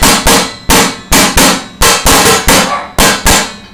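A trash bin struck as a percussion drum in a kitchen-percussion session, giving about ten loud, sharp hollow thumps in a loose, uneven rhythm, each hit ringing briefly before the next, with no voices.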